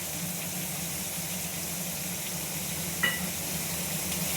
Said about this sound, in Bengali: চিংড়ি মাছটার সঙ্গে কাঁচা পেঁয়াজটা ভাজবো, একটু ভাজা ভাজা করে নেব